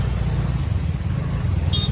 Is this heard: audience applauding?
no